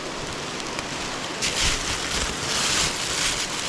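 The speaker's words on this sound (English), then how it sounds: "that was torrential downpour, and I just got caught in the middle of it" Torrential rain pours down on a hiking trail in Virginia, a dense close hiss of drops that swells louder partway through, with no voices.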